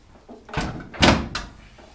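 A car door on a Porsche Boxster project shell, fitted with Metro 6R4 doors and a tack-welded pillar, is worked open and shut, giving two or three close, solid thunks with a louder slam in the middle.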